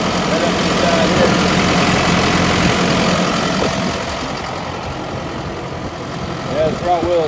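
A tractor with front wheel assist pulls a Country Line single ripper subsoiler through a field, its engine rumbling steadily and loudly throughout and easing slightly toward the end.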